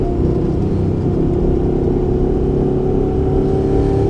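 Honda NC750X motorcycle engine running in sport mode on a race track, a steady loud drone with a rising whine as it accelerates, continuous wind rumble underneath and no talking.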